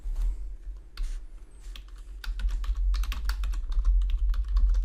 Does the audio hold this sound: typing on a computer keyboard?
yes